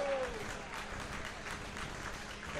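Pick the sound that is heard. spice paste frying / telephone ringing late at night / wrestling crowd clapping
wrestling crowd clapping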